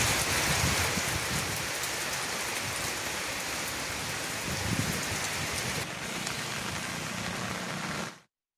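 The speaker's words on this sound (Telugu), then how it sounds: "నిన్న రాత్రి నుంచి తెరిపి లేకుండా వానలు కురుస్తూనే ఉన్నాయి" Heavy, continuous rain pouring down in Telangana, a dense, steady wash of falling water that stays loud and unbroken for the whole stretch, then cuts off abruptly at the end.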